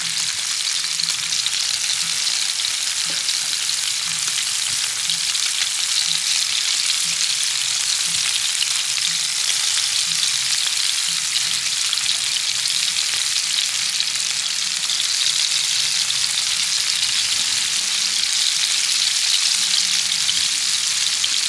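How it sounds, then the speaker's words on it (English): Scallops frying in oil in a hex-clad pan, seasoned with lemon pepper and garlic salt, give a steady, loud, close sizzle that holds unbroken throughout, with no voices. "Just move the oil, but not move the scallops."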